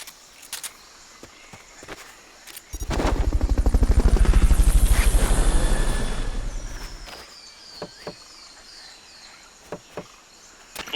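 A helicopter in Metal Gear Solid Peace Walker swells in with rapid rotor thumping, peaks and fades over several seconds. Game ambience of insect chirps and sparse footsteps or clicks sits before and after it, and no one speaks.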